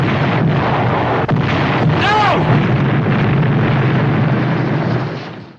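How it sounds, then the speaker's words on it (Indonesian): Landmines exploding after being shot in the Tobruk desert fighting in Libya, a single deep boom heard over a continuous rumbling din, with a sharp crack just before it. "menembakkan ranjau hingga beberapa titik meledak sendirinya"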